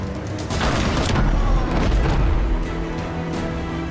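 Mortar fire and heavy explosions in the Abandon Ship naval battle game, a deep rumbling boom that swells and then decays into a long, loud roar.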